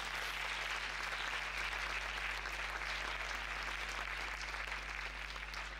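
Audience at a closing session applauding technicians and backstage staff, a steady even patter of clapping over a constant low electrical hum.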